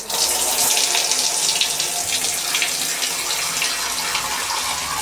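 Tap water runs hard and steadily while shoes are washed beneath it, a close splashing hiss with no talking.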